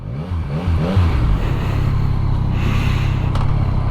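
A warmed-up 2022 Yamaha MT-09 motorcycle engine revs up with a rising, throaty roar, then settles into a steady, loud, rumbling idle close by.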